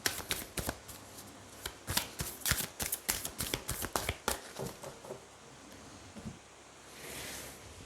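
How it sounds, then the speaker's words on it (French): Tarot cards are shuffled and drawn in a quick run of close, crisp riffling slaps and flicks. The cards then settle into softer rustling handling near the end. "Allez, on va tirer 9 cartes."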